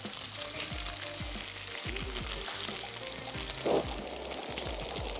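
Tom Yum soup with prawns and mushrooms is stirred in a hot pot, making a soft, steady sizzle and bubbling with a few louder clinks and sloshes, fairly quiet and close.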